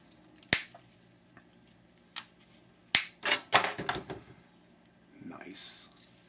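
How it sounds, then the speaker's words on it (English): Cutters snip the wires off the back of a security ID card maker: a few sharp, close snaps spaced irregularly, with light handling rustle between them. "just snip the wires off the back."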